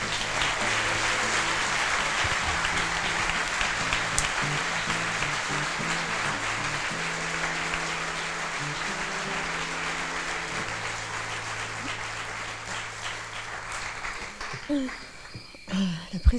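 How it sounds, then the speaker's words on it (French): Sustained audience applause at a live variety evening show, a dense crowd clapping loudly and steadily for about fourteen seconds before thinning out and fading near the end. "Merci d'applaudir très fort Céline Tran."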